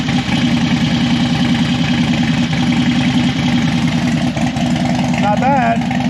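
A Harley-Davidson Dyna motorcycle engine idles nearby after a fuel leak repair, a steady low rhythmic rumble throughout with a person speaking briefly over it near the end.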